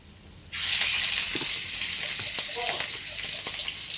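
Shrimp for a stir-fried basil prawn dish hit a hot pan with a sudden loud burst of sizzling after half a second of quiet, then crackle on steadily with a few light stirring clinks.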